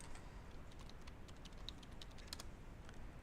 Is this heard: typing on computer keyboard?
yes